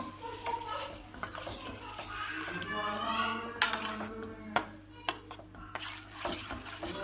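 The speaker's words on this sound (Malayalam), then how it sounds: "എന്നിട്ട് അതൊന്ന് നല്ലോണം നമുക്ക് ഇളക്കി മിക്സ് ചെയ്യാം." A spoon scrapes and clinks against a pot while pineapple curry with a sugar and grape mix is stirred, irregular metallic knocks over a soft sizzle, close and fairly quiet.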